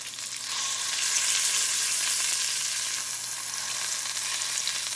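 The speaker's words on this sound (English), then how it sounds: "Get that bacon cooked a little bit more. Keep the grease in there, cooking everything." Bacon-wrapped Columbia River salmon fries in bacon grease with a steady, close, dense sizzle that continues throughout, with no talk.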